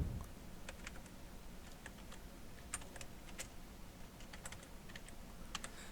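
Java code being typed on a computer keyboard: quiet, irregular clicks and clacks of keys in uneven bursts throughout, with no speech.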